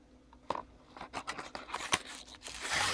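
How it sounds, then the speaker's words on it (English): Cellophane wrap crinkles and tears as it is peeled off a pack of Lutz Cavalier razor blades, with several sharp close crackles and rustles rising toward a denser crinkle at the end. "Lutz Cavalier blades in their original cello wrap"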